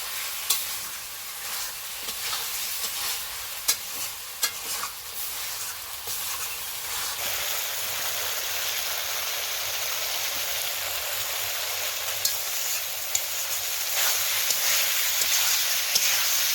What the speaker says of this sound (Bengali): আলুটাকে আমি মশলা দিয়ে সুন্দর করে কষিয়ে নেব